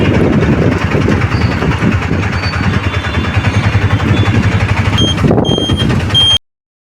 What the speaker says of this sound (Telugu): నీ వెనక ట్రైన్ వస్తుంది